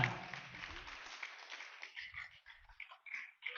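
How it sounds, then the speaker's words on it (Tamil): Applause from a congregation at a Tamil Sunday Mass during a lottery draw, dense clapping that starts loud and fades into scattered claps by the end. "கைதட்டுங்க."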